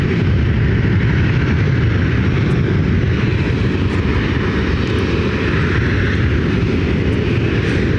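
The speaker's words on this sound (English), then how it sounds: "this Alaska flight heading to Seattle is 11-year-old 737-900 ER" An 11-year-old Alaska Airlines Boeing 737-900ER jet airliner roars steadily at an airport, a loud, constant broadband engine rumble that fills the whole stretch with no voices over it.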